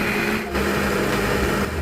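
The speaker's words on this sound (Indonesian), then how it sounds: "Tambahkan air sedikit agar mudah saat dihaluskan dengan blender." A blender grinds spice paste with a little water, whirring loudly and continuously, its motor grinding steadily with a brief dip in pitch partway through.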